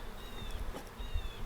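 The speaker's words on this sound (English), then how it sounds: "I'm surrounded by bees from the other install" Honey bees buzzing around a beekeeper as a hive is installed on a farm, a steady close insect drone with faint whining passes.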